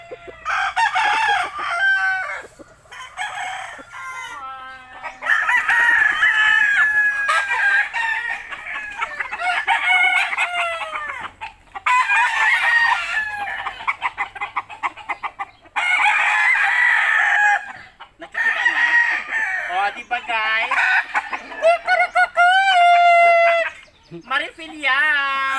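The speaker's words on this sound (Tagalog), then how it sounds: "Ayan guys, hawak-hawak ko yung manok." A rooster, held in the hands, crows repeatedly, loud and close, with clucking between the calls and a voice talking intermittently, at a house with backyard chickens.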